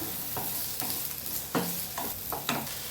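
Garlic frying in oil after onions for Ugadi obbattu saaru, a steady sizzle broken by several sharp spoon scrapes and stirs at close range, with no talk.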